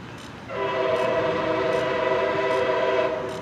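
MARC commuter train P891 passing at Point of Rocks, Maryland, sounding a loud, sustained multi-tone horn chord that starts half a second in and holds to the end, close and dominant over a rumbling background.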